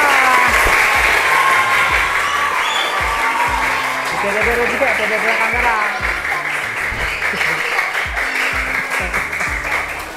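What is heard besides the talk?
children's applause for first-place group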